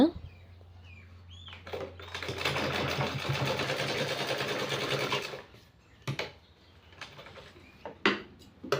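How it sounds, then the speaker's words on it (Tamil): A pedal-operated sewing machine runs in one steady, moderately loud stretch of stitching lasting a few seconds, then stops, leaving a few scattered clicks and handling sounds afterward. "என்னோடய பெடல் மிஷினுங்கிறனால உங்களுக்கு வீடியோ ரொம்ப ஸ்லோவாக போகிற மாதிரி இருக்குங்க"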